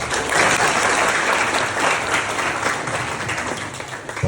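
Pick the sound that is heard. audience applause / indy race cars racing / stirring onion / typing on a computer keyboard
audience applause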